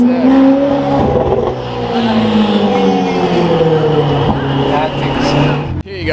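A 900-horsepower Novitec-tuned Ferrari 488 Pista with an IPE exhaust and HRE wheels runs loud and close, its engine droning steadily with shifting pitch, while people talk excitedly over it.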